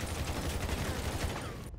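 Heavy gunfire from the video game GTA 5 forms a dense, continuous barrage of shots that fills the whole short stretch before cutting off abruptly.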